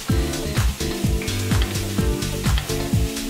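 Prawn stir fry sizzling loudly in a pan, with repeated tossing that brings rhythmic scraping and clattering bursts over the steady hiss of frying.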